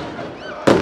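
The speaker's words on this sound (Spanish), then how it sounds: "Fuegos artificiales, el recibimiento hostil" Fireworks burst at a football stadium as the home crowd welcomes the team before an Olimpia versus Libertad Paraguayan league match, a sudden loud bang breaking through muffled background noise near the end.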